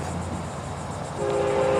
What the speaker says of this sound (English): We're hunting the hot train.